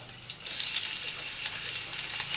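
Chopped onions drop into hot oil already holding cloves and cinnamon, bursting into a loud, bright sizzle that stays steady with small crackles and no talking.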